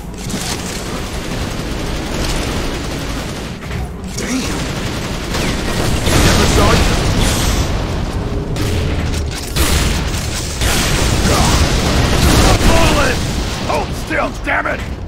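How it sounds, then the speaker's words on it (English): Heavy gunfire and explosions in Unreal Tournament 3 team deathmatch on the Crucible map, a dense, loud wash of booms, rumbling blasts and weapon fire that swells and continues without pause, with voices in the mix. "I'm taking heavy fire."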